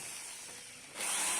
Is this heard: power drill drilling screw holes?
yes